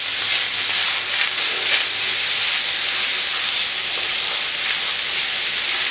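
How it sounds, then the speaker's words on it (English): Fried rice sizzles steadily in a pot, a continuous close hiss of frying with faint stirring, with no talk over it. "You hear that sizzling"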